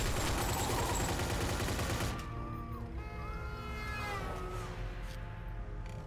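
Loud rapid gunfire from the video game Mafia 2, a dense burst of shots over the first two seconds, then a ringing tonal game sound with no talk.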